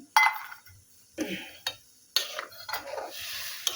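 Cashews and raisins are stirred into milk in a pan for sabu payesh. Several short bursts of scraping and clinking come up close, with quiet gaps between them and a faint sizzle.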